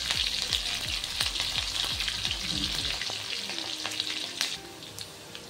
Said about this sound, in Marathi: हिरवी मिरची सुद्धा आपल्याला तेलात चांगली भाजून घ्यायची आहे।